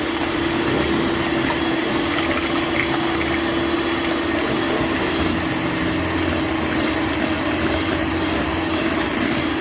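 Creamed butter, sugar and eggs being beaten for a date and walnut cake batter, a continuous whirring mixer drone with a steady hum and faint splattering, constant and close with no talk.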